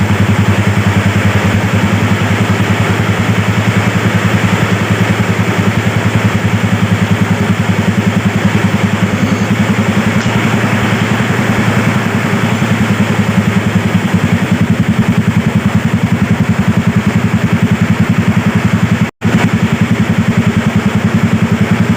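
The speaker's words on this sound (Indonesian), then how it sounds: "Ya, motor ini sudah menyala." Yamaha Vega motorcycle engine runs steadily after its front engine section and magneto block were refitted. A continuous, even idle drones for the whole stretch, blended with the hiss of heavy rain.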